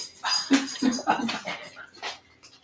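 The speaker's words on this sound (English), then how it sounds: "Doggy is begging for nuts." A pet dog whimpers and yips while begging for nuts in a home kitchen, giving a series of short, close, moderately loud whines and squeaky vocalizations that trail off toward the end.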